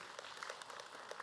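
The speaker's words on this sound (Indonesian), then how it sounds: "Boleh tepuk tangan buat Habib." Studio audience of a televised Islamic talk show applauding a Habib guest, a brief, faint burst of scattered clapping with no talk over it.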